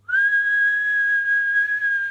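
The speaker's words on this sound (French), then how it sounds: "voilà, vous sifflez, tout va bien." A person whistles one clear, steady sustained tone for about two seconds, loud, close and alone.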